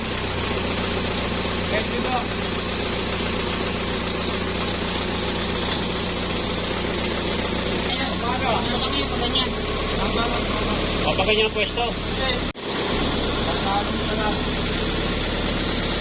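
A soil drilling machine's engine drones steadily throughout, loud and close, with people talking over it and a brief dropout near the end.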